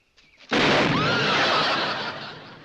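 A single loud, booming cannon test blast erupts suddenly and rolls on, slowly fading over the next couple of seconds, close and powerful.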